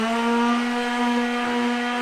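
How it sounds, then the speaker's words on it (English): A power sander works steadily over lightweight wooden cabinets in a Peugeot Boxer campervan conversion, giving a loud, continuous, even drone with no pauses. "Okay, sanding is done."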